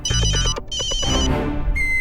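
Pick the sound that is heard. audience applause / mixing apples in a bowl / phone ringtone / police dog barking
phone ringtone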